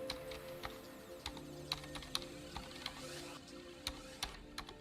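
Keys clack on a computer keyboard in quick, irregular taps, some louder than others, over a low steady room hum.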